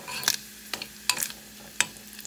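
Pork fries in a pan with a steady low sizzle under several sharp scraping stirs, spaced about half a second apart, close and fairly quiet, with no talking.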